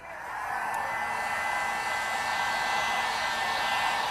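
A heat gun blows hot air steadily onto a dent in a white 2017 BMW X6 panel during paintless dent repair, a constant close whooshing roar that ramps up in the first half second and then holds.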